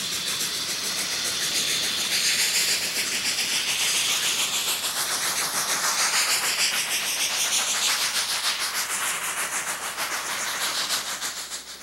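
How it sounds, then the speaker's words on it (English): Two narrow gauge Mikado steam locomotives working as a doubleheader blast through S-curves beside a highway, a dense, continuous roar of exhaust and rolling rail noise, loud and steady throughout. "our doubleheader blasts its way through the S-curves near Highway 17"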